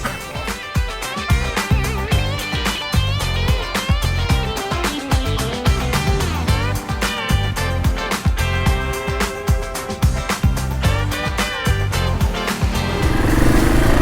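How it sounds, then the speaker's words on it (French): A motorcycle engine drones loudly and close by, its pitch rising and falling with gear changes as it rides along steadily with no speech. "Moi j'aime la moto."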